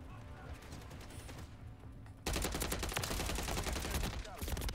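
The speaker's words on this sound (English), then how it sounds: "Oh, that's a sentry gun." Rapid automatic gunfire from a sentry gun in Call of Duty MW3, steady bursts of shots that jump sharply louder halfway through and stay dense and close to the end.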